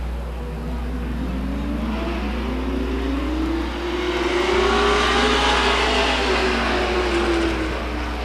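Race cars at Stockton 99 Speedway in 2001, engines roaring and rising in pitch as they pass fairly near, over constant crowd and track ambience with a low hum beneath.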